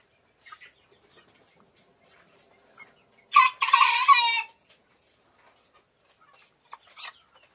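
A two-month-old male chick, roughly 550 grams, lets out one short loud crow-like call near the middle, with a few faint clucks and chirps around it in otherwise quiet surroundings.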